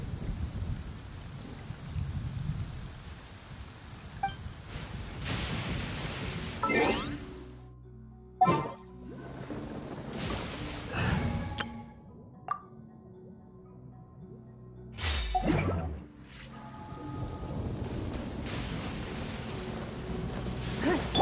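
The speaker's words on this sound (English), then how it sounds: "sound of rain masks the enemy's footsteps." Steady rain with rumbles of thunder in Genshin Impact, a continuous hiss broken by a few sharp, loud cracks and quieter gaps, with no talk over it.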